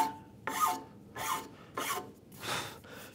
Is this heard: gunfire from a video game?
no